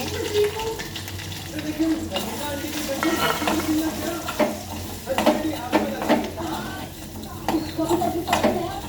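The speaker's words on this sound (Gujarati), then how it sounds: "બધા મિક્સ કરી દઈએ આપણે મસાલા" Potatoes are stirred with chilli, turmeric, garam masala, cumin and salt in a sizzling pan for a village-style fafda batata dish, with steady frying, repeated scraping and clanking of the spoon, and talk over it.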